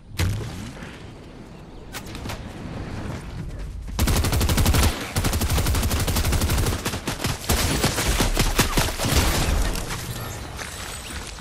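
Gunfire from the video game Fortnite: a quieter opening followed by loud, rapid bursts of shots and sharp cracks from about four seconds on, dense and continuous with no voices over it.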